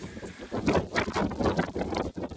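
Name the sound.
wind on the mountain summit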